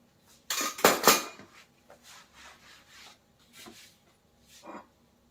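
Crisp, rattling clinks of crispy fried bakarwadi snacks landing and sliding on a steel plate, a loud burst at first, then several softer scattered clatters.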